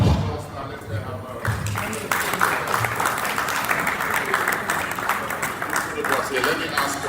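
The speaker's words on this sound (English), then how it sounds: "Let's give a round of applause now." An audience at a business panel event on blue-collar employee welfare and productivity breaks into sustained applause, a dense wash of clapping that swells after a couple of seconds and carries on steadily, with voices in the room underneath.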